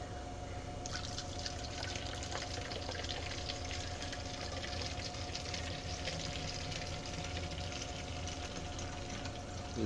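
Water runs from a tap into a container to wet soldering iron sponges, a steady, quiet trickle and splash that continues evenly throughout, with no talking.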